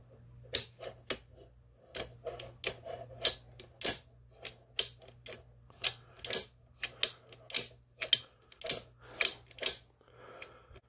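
Winchester 67 rifle bolt being worked after cleaning, giving a sequence of sharp, close metallic clicks and clacks at an uneven rhythm in a quiet room.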